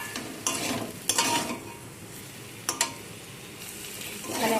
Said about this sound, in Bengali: এভাবে করে লো ফ্লেমে এটাকে কষিয়ে নিতে হবে।